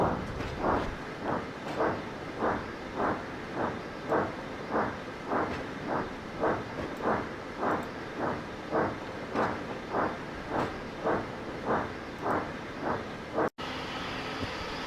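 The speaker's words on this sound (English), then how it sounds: "So the engines got to work loading their trucks of stone." Steam engines on a railway working to load trucks with stone, a steady rhythmic chuffing of about two beats per second, moderately loud and evenly paced throughout with no talk.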